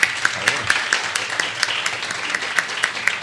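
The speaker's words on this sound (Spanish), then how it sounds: "Un aplauso" Audience applause at a live Spanish-language pop-culture talk event, a steady dense wash of clapping with sharper individual claps standing out, moderately loud and continuous throughout.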